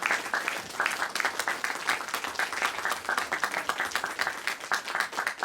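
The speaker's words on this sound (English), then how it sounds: "Let's have another round of applause." An audience at a Black History Month evening at the Pump House in Watford gives another round of applause, lively close clapping with distinct individual claps pulsing through the wash.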